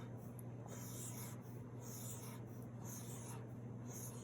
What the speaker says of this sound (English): let's start out by drawing our 5 groups